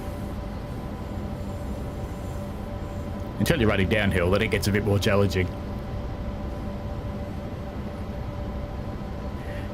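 A US freight train on the Clinchfield line in Train Sim World 2 runs with a steady low engine rumble and a continuous mechanical drone, while someone talks briefly over it.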